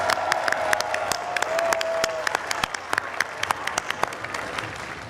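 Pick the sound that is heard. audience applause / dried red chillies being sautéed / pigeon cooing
audience applause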